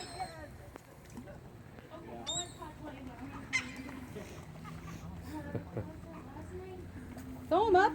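Seagulls being fed call out with shrill, rising cries, the loudest at the very end, while people talk and laugh nearby over a low outdoor rumble.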